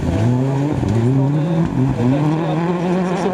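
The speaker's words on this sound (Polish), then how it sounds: "tam właśnie jedzie Bartek Jakubowski na prawym motoru pilotuje Mariusza e, Nowocienia" A rally car on the Bemowo special stage of Rajd Barbórka 2014 drives past loud and close, its engine revving through rising and falling gear changes with a steady roar throughout.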